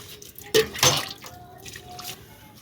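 Water poured onto newly planted flowers and vegetable seedlings such as eggplant, a couple of brief close splashes and drips over quiet background.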